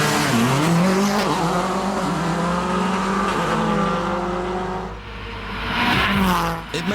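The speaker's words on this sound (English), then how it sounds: "The rally car has a standard Subaru Boxer engine, rebuilt to racing specs, optimised for torque and acceleration rather than top speed" A Subaru rally car with a Boxer engine rebuilt to racing specs launches hard from the start, its engine revving loud and rising through gears alongside tire squeal, close and continuous.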